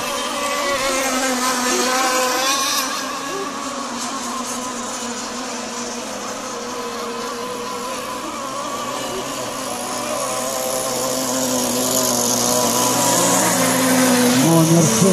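Several radio-controlled FSR-H racing model boats start a semifinal race together, their small engines producing a loud, continuous high-pitched whine with shifting tones that dips briefly and then swells again, with faint voices underneath.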